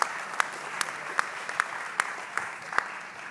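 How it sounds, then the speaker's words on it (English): An audience at a book launch in Lagos applauds the author, a dense bed of clapping with a few sharp, louder claps standing out at a steady rhythm, continuous and close throughout. "Round of applause."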